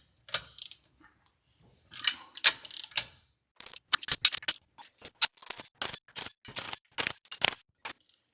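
A ratchet wrench loosens the mounting bolts and nuts on a Mercruiser Alpha One Gen 2 sterndrive, making close, sharp clicking bursts in quick runs separated by short pauses, with no talking.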